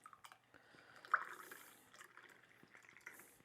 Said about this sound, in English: all we're going to do is simply pour in there.